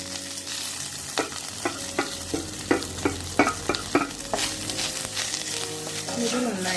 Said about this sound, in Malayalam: ഒന്ന് വറുത്തെടുക്കാം തേങ്ങ നന്നായിട്ട് ചുവക്ക് വറുത്തെടുക്കണം